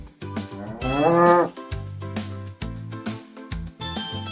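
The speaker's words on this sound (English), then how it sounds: "It makes the sound moo." A loud, drawn-out cow moo rises and falls, followed by shorter lowing calls and rustling farmyard noise.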